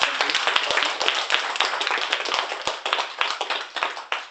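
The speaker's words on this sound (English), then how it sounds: "I think if we start with a round of applause for the wonderful" Audience applause at a parasports talk, a dense steady patter of many hands clapping with sharp individual claps standing out, fairly close and loud throughout, with no talk over it.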